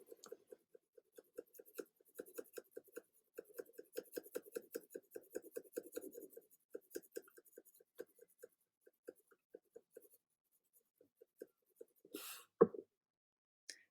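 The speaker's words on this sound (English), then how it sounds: "I'm also not putting a lot of pressure on it. So I'm shading very lightly." An HB graphite pencil shades lightly on paper in quiet, rhythmic scratchy strokes, close and soft, tapering off before a brief louder rustle near the end.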